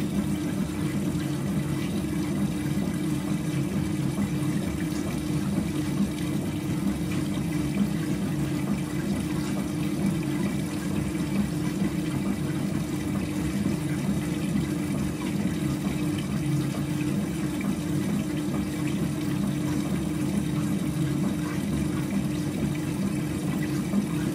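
An AEG Öko Lavamat Sensorlogic 6955 washing machine fills with water for its final rinse, a steady, continuous rushing hiss and gush with a low hum throughout, even and unbroken.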